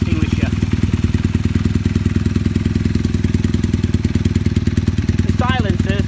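A steampunk motorcycle with brass plating and a brass fire-extinguisher air intake runs with a steady, loud, throbbing engine beat throughout, and a brief voice sounds near the end.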